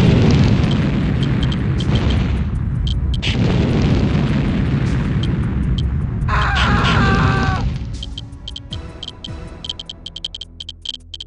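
Loud, dense rumbling explosions from an airstrike in Command & Conquer on the N64, several booming blasts rolling together for most of the stretch, with a metallic ringing burst midway before the din fades into quieter game sounds.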